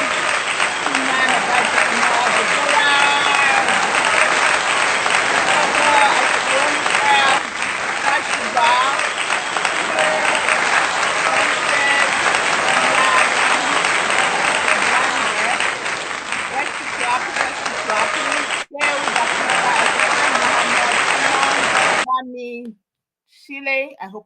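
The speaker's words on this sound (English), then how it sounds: "let's give them a round of applause again" Sustained applause from an audience honoring nurse mentorship graduates, loud and steady for over twenty seconds before cutting off abruptly.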